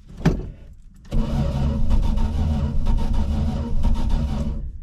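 A 1974 Plymouth Valiant engine cranking with the choke on, after a short sharp sound comes a loud steady churn of the starter turning over that continues without catching, close up.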